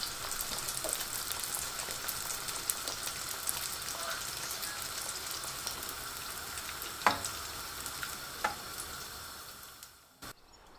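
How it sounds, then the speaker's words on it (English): Katayef pancakes sizzle and crackle steadily in hot frying oil, a close, dense hiss with occasional sharper pops and a stirring clink, fading out at the very end. "You can fry them in oil, like what I decided to do"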